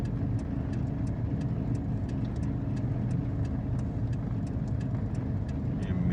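A car rolling uphill on its own with the engine idling, a steady low rumbling drone heard from inside the vehicle, constant and moderately loud, with faint light ticks.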